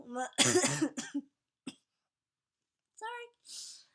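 A harsh burst of coughing up close, followed by a short cough a moment later and a throat-clearing sound after a pause.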